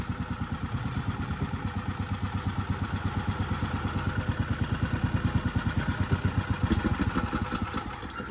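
Predator 459 engine in a VF-1 idling steadily with a fast, even thumping pulse, running throughout with a few clattering clicks near the end.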